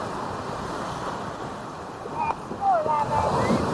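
Ocean waves at Paniman Beach, Puerto Azul, wash steadily under wind noise, swelling slightly toward the end, with faint brief voices.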